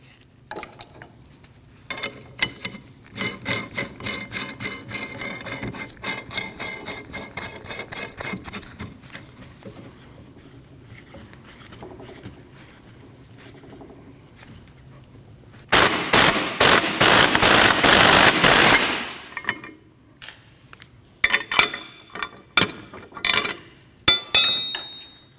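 A hub and bearing removal tool pressing the rear hub out of a 2003-2008 Subaru Forester, rapid metallic ratcheting clicks, then a loud sustained grinding burst of a power tool, followed by sharp clinks and bangs.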